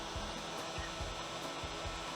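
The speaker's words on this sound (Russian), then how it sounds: "У меня тут фен стоит, я аккуратненько все это грею." A hair dryer runs steadily at close range, warming an arrow to set glue while fletching a bow arrow, a continuous airy blowing hum with faint low knocks underneath and no talking.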